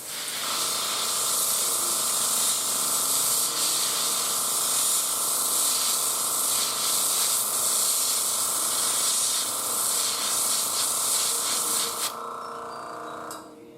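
Spray paint hisses steadily onto a homemade fishing lure, a close, loud, continuous spray lasting about twelve seconds before cutting off abruptly.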